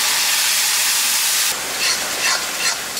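Chopped tomatoes sautéing in hot oil for a vegetarian banana-flower curry, giving a steady, loud broadband sizzle that softens midway as the pan is stirred.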